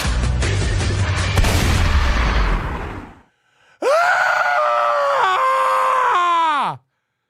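An adult screams loudly on police body camera footage, a long sustained wavering cry after several seconds of rough, noisy scuffling and thumps.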